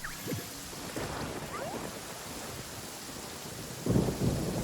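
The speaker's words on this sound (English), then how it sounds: "Oh, it's a storm." Thunder rolls low and distant beneath steady rain in a video game storm, with a heavier rumble building near the end, no voices over it.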